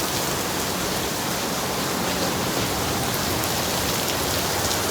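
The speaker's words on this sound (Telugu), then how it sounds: "ఫుల్ వర్షం పడుతుంది అసలు." Heavy rain pours steadily onto tents at an outdoor LED screen setup, a dense, unbroken roar of drops with no pauses or voices.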